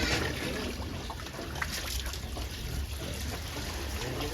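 Water pours and trickles steadily on a pig farm, a continuous splashing wash of sound that runs throughout without a break.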